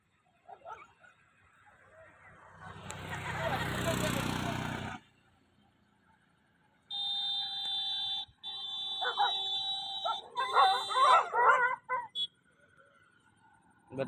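Several dogs bark and yelp in a wet street after rain, heard in bursts: a long noisy stretch early on, then sharper barks and whimpering yips later, fairly close, with some talking mixed in.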